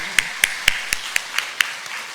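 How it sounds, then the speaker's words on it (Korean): Slow, evenly spaced hand claps ring out in a church, about eight crisp distinct strikes roughly a quarter second apart, fading slightly toward the end rather than building into full applause. "하나님께 박수로 영광 돌리겠습니다."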